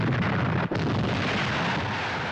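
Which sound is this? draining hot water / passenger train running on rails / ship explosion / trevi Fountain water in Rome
ship explosion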